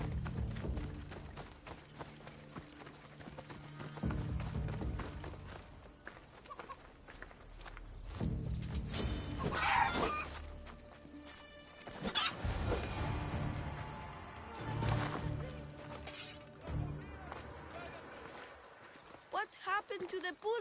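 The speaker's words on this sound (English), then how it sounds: "going to show you how to kill a chicken" A chicken clucks and squawks amid footsteps and scuffling in Assassin's Creed Odyssey, with sharp bursts as the bird is killed, while voices talk over the scene at a low overall level.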